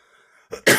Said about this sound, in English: You know you getting old when you laugh hard and it make you cough.